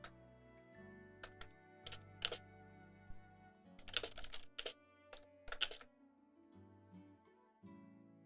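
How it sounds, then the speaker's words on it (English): Keys on a computer keyboard are typed in short bursts and separate taps during a live drawing stream, close and fairly quiet, over a steady low background hum. "I'm typing stuff."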